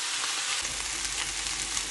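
Chicken pieces frying in a pan, a steady, hissing sizzle with faint crackle, fairly soft and continuous throughout, no talk.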